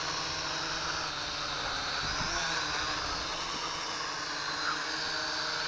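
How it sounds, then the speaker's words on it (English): GPToys H2O waterproof quadcopter drone in flight, a steady high buzzing whine of small rotors holding level throughout without a break. "Now, it's a very stable flyer, very similar to the X5C in quality of construction and the way it flies."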